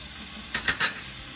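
Shallots dropped into hot oil flavored with Tasso ham while making shrimp and grits, giving three short crackling sizzle bursts close by, then a quiet low simmer.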